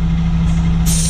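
Truck air suspension lowering the trailer's rear, a steady close hiss of released air over a low engine hum, rising in brightness near the end.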